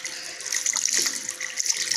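Hot water runs steadily from the tap of a wood-fired water heater, a close, even hiss and splash of flowing water lasting about two seconds.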